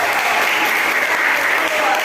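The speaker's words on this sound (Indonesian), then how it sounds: "tepuk tangan untuk Mario" Students in an open class on prompt engineering for content creation at a vocational high school applaud a classmate named Mario. Brief, steady, dense clapping carries at an even, fairly loud level throughout.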